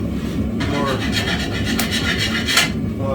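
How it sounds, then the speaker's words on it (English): Rasping scrape and wire-brush strokes on cold rolled steel parent material being cleaned for forge welding, a run of close, gritty rubs with a louder burst near the end over a steady low background. "Sometimes you do have to scrape aggressively, especially on cold rolled parent material."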